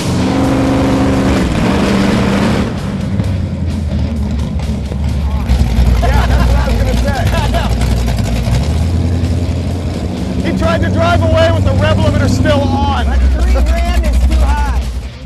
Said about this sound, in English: So that's what we're gonna use to launch the car.